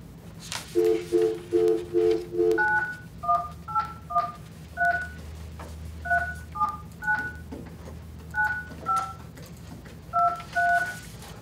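A telephone keypad dials into a conference call for a board meeting: a quick burst of five touch-tone beeps, then a slower, irregular string of about fifteen more, clear and close over a faint low hum.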